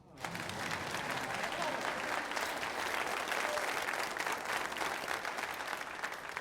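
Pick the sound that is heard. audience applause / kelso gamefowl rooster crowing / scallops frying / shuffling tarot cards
audience applause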